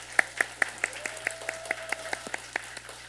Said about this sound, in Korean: 우리 박수로 한번 격려할까요?